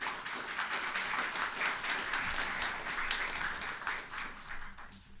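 A graduation ceremony crowd for arts, animal studies, health and Auslan graduates breaks into sustained applause, a full, continuous roar of clapping that fades slightly toward the end.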